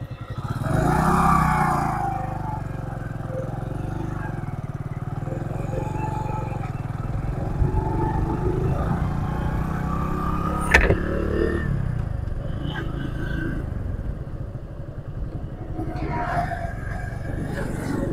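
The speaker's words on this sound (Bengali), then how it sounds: "স্প্যান্ডেল বাইক নিয়ে বেরিয়েছি আজকে। স্প্যান্ডেল প্লাস, যেটা নতুন বাইক" A new Hero Splendor Plus motorcycle being ridden on a road at midday, its engine droning steadily with wind rush and road rumble throughout, one brief clatter midway, fairly loud and continuous with no clear talk.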